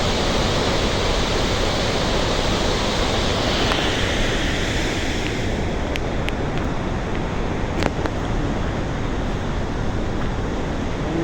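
A swollen river near the Marsyangdi hydro site roars continuously, loud and close, a dense, unbroken rush of churning water with no pauses over the whole stretch.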